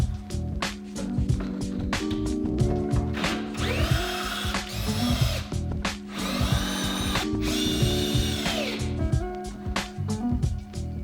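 A power drill drives screws into wood while a ladder is mounted in a store window display, whirring in repeated loud bursts with ratcheting clicks between them, close and steady throughout.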